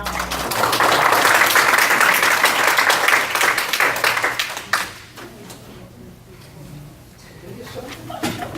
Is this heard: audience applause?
yes